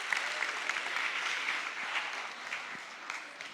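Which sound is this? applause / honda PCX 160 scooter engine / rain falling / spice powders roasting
applause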